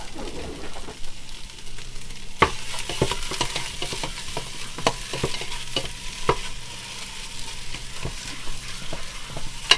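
Ground sausage browning in a high-sided pot, a steady sizzle with frequent sharp scraping clicks as the meat is stirred and moved around, close and continuous.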